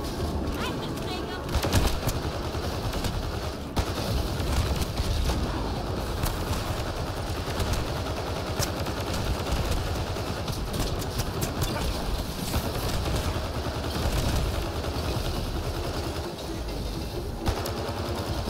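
Sustained gunfire in Mass Effect: Andromeda, a dense, continuous clatter of rapid shots and impacts at steady loudness throughout, with no voices over it.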